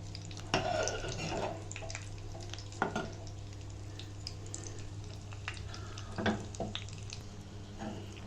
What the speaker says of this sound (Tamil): இப்போ இதை நல்லா கலரி விட்டுக்கலாம்.